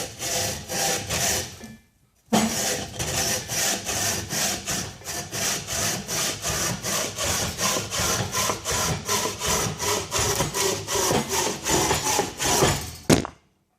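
A Silky hand saw cuts through a wooden log beside a knot, with a brief pause and then a long run of fast, even, rasping strokes, loud and close, with no talk.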